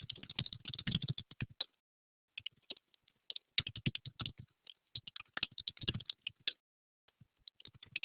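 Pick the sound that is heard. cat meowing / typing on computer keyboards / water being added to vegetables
typing on computer keyboards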